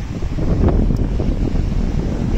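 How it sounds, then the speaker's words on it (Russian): Strong wind blows outdoors in Spain, a dense steady roar buffeting the microphone with low gusty rumble and no voices. "Ветер какой."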